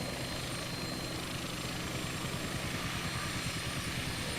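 The rotor of a small flying machine in flight, a steady, loud, dense whirring drone heard from on board without any break or talking.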